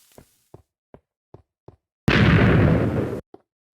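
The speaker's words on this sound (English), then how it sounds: "I love the old explosion sound." Old-style TNT explosion in the Minecraft Beta game: a single loud, roaring blast lasting about a second, preceded by a few soft, evenly spaced footstep-like taps, with quiet after.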